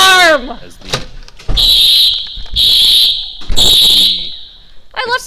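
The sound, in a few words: fire alarm going off inside a building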